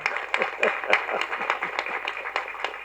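At a Tamil film audio launch event, an audience claps in a steady rhythm, with sharp, evenly spaced claps sounding faint and slightly distant in a large hall.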